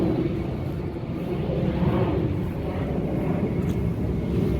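Airplanes landing or taking off near Faro airport in the Algarve, heard as a steady, loud low rumble of a passing jet that swells and holds across the whole stretch with some wind buffeting, no voices.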